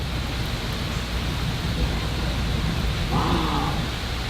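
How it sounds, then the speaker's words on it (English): Heavy rain pours during a severe thunderstorm as a dense, continuous hiss that stays steady and fairly loud throughout, with no distinct thunderclap. "that rain's starting to pick up again too"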